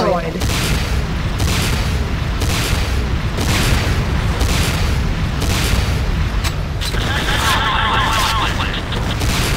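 Explosions from a tower being destroyed in a Command & Conquer-style real-time strategy battle between GDI and Nod, a steady barrage of loud booms and gunfire that continues the whole time, with a brief mechanical chirping pattern near the end.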